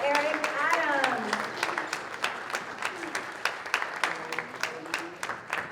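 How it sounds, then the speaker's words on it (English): An audience applauds the arrival of Eric Adams at a community gathering in New York, with clapping that starts under a speaking voice and thins into scattered, uneven claps. "Please give him a round of applause."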